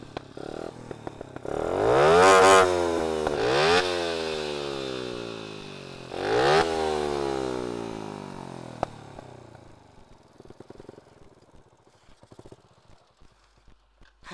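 Kids race motorcycles by a lake: engines rev and rise in pitch as bikes pass close and loud, two or three passes in a row, then fade into distant engine noise.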